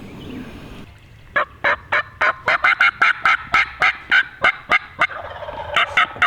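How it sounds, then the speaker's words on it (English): Chorus of wild turkey gobblers gobbling from a ridge during a Kentucky spring hunt, with a quick string of loud, rattling gobbles overlapping one another and carrying clearly through the open woods. "There's 10 different gobblers right now."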